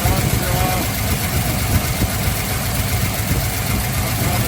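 A 1982 GMC K1500 truck engine, a 305 or 350 V8, idles loudly and steadily up close, with a faint rapid lifter tick running through the rumble.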